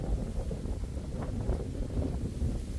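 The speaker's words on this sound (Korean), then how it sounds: "바람 계속 맞고 좀 추울 지경이야" Steady wind gusts over a summer coastline in Hokkaido rumble and buffet the microphone, loud and continuous for a few seconds, with no voices.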